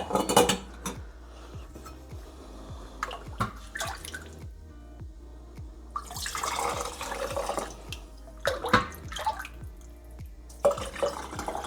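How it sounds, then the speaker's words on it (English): Glass pint jars being filled with chicken stock through a funnel, with repeated clinks of glass and metal and splashing, trickling liquid pouring between sharp taps, close and fairly loud, no talking. "We're gonna fill up all these pint jars real quick."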